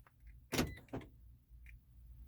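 A Toyota Prius door lock gives two quick mechanical clunks close by, one after the other. A faint click follows in an otherwise quiet car interior.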